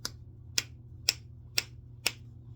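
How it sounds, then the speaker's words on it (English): Fingers snap five times at an even, unhurried pace, each one a sharp, crisp click standing alone over a low steady hum, with no talking. "Snap your fingers."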